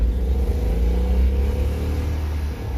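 A car engine revs on an open road, a close, loud low-pitched drone rising and easing in waves with no talk over it.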